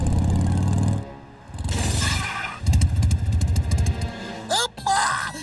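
A cartoon motorcycle engine revs and sputters loudly in bursts, with clattering effects and sharp whooshing tones around it and brief voices and music in between.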